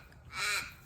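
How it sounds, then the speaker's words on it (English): One crow-like caw rings out outdoors, a single fairly faint call heard alone against quiet background. "Lots of birds out today."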